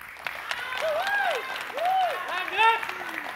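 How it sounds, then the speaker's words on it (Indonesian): Supporters clap at a public debate for a regency election in Situbondo, Indonesia, with moderate applause running under a speaker's talk. "Boleh tepuk tangan sekali lagi untuk seluruh pendukung yang sangat istimewa"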